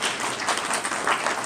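Audience applause at an NHPC retirement ceremony honouring retiring employees: steady, dense clapping filling the short moment, moderately loud and continuous without a break.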